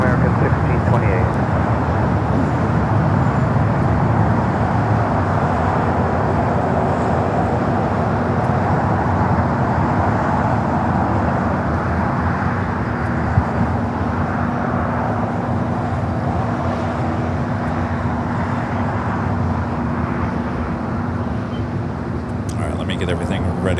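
An airliner comes in to land at LAX with a steady, loud roar of engines and rushing air that stays broad and sustained throughout, a voice talking over it.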